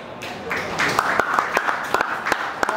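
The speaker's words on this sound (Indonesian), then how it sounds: "Boleh minta tepuk tangan untuk Mas Bugi Setiawan." An audience at a basketball event claps in scattered, uneven bursts, with individual sharp claps standing out over a murmuring room as the applause builds and thins.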